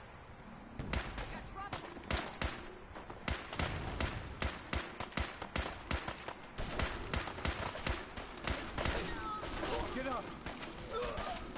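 Rapid, repeated gunfire bursts in a Fallout 4 battle in fog at Far Harbor, cracking steadily throughout, mixed with shouted voices and chaotic combat noise.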